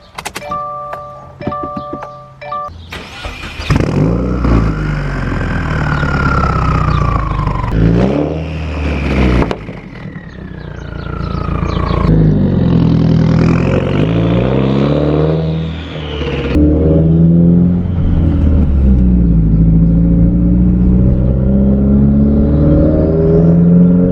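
Stage 3 Subaru WRX with a Tomei exhaust, loud and close, a brief whine and then repeated rising revs with a deep droning exhaust note throughout, no talking.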